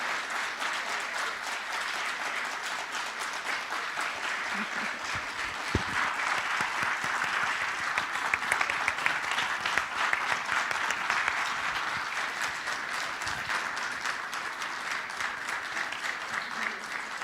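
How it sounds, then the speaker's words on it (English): A crowd claps for the Flat6Labs team at a startup demo day in Amman, sustained dense applause from a large room lasting many seconds at an even level, with a few louder claps and thuds near the start. "help me show them my appreciation with a big round of applause"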